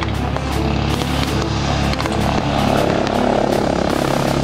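Mangusta military helicopters operate close by during a military exercise, giving a loud, continuous engine and rotor roar with rough, pulsing texture and no one speaking.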